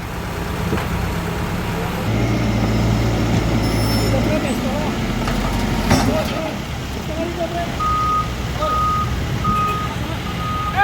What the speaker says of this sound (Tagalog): kinakarga na dito sa truck ang mga debris na nakuha doon sa ilalim